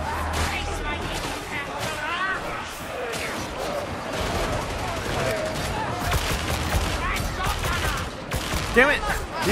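Dense bursts of gunfire in the game Darktide, rapid near shots and crashes layered into a continuous loud barrage, with a voice speaking over the fighting.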